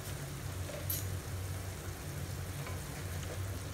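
Fish curry with garam masala and ghee being gently stirred in a hot pan, a soft continuous sizzle under faint scraping of the spoon, close and quiet, with no talking.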